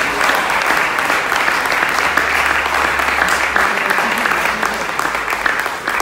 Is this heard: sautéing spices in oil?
no